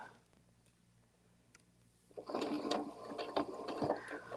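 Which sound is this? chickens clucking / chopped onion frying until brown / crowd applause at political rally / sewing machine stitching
sewing machine stitching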